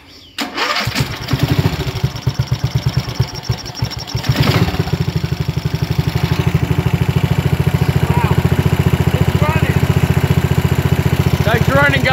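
A lawn mower engine with a fault that makes it rev high cranks and catches, then settles into a loud, steady, close idle with slight rises in speed.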